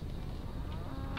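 A cow moos in Railroads Online, one sustained low bellow held loud and close for the whole brief moment.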